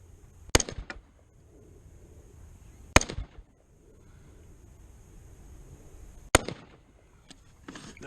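Three sharp rifle shots ring out from an AR-style rifle at an outdoor shooting range, spaced a few seconds apart. Each crack is loud and close, with a short echo trailing off, and quiet wind noise fills the gaps between shots.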